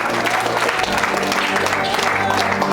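Church congregation at a Saturday service applauding loudly and continuously, dense clapping mixed with crowd voices and shouting throughout.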